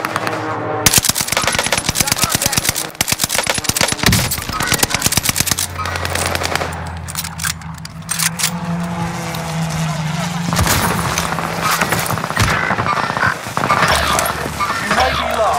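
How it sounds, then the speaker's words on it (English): Dense, loud automatic gunfire in a Call of Duty: Modern Warfare match, long bursts of rapid shots with booms and explosions, a voice speaking briefly among the shooting. "I'm taking shots!"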